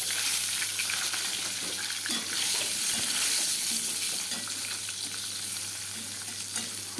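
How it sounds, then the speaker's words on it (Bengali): Pieces of pointed gourd (potol) fry in hot oil in a pan, a loud continuous sizzle with occasional stirring scrapes, close up and without a break. "এবার আমি পটলটাকেও ভেজে নেব"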